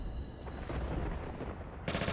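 Enemy gunfire from Tomb Raider 4 Remastered crackles in a quick burst of shots, with a brief pause before another loud report near the end.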